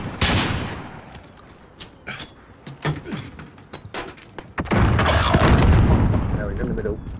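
Gunfire during an English vs Scottish gunfight, a string of sharp close shots and bangs at irregular intervals, followed by a denser burst of rapid fire near the end, with voices around.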